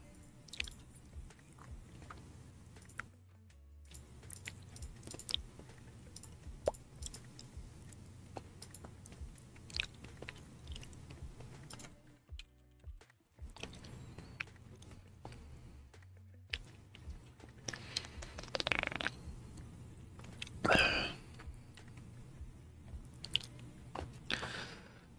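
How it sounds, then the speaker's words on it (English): Soft wet chewing and mouth noises from someone eating breakfast, close and quiet, coming in intermittent bursts with brief silent gaps and a few louder smacks. "am I making the sound of me chewing?"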